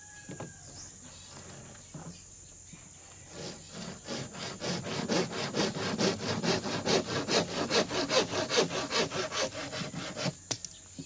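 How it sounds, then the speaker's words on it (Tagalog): A hand saw cuts through wood for a kite hummer, with a steady run of loud, rhythmic back-and-forth strokes that build up after a few quieter seconds and then stop near the end. "Lagariin naman natin."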